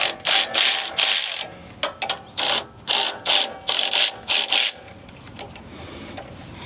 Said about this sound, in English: Make sure we're going the right way with the ratchet.